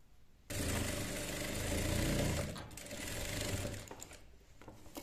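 A sewing machine stitches a lined blouse with a piped round neck. After a brief quiet start, it runs in a steady, close whirring burst that eases slightly toward the end. No one talks.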